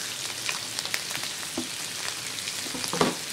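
Cabbage frying in a pan for a Padang-style seafood sauce, with a steady soft sizzle and a few light stirring clicks and scrapes close by.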